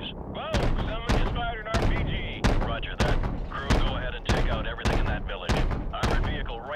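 Gunfire in Call of Duty: Modern Warfare Remastered during an ambush on a curved road by a village, heavy booming shots repeating roughly every half second, loud and close, with radio voices talking between the blasts.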